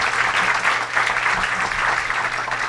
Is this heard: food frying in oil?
no